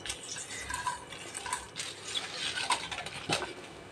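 Cumin, fennel, cinnamon, garlic and ginger sautéing in a pan for a Tamil green gram curry, with soft sizzling under repeated clinks and scrapes of a stirring spoon against the pan, close and moderately loud.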